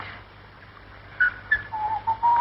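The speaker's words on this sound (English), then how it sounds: "Oh, do stop whistling." A person whistles a few short, thin notes, rising then holding steady, over a quiet background hum.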